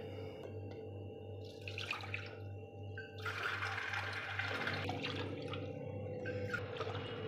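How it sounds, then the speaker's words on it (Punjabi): Water poured into a pressure cooker holding rice for kheer, a splashing gush that builds and continues over a low steady hum, close and moderately loud, with no talk. "ਹੁਣ ਆਪਾਂ ਤਿੰਨ ਕੋਲੀਆਂ ਪਾਣੀ ਦੀਆਂ ਲੈ ਲਾਂਗੇ"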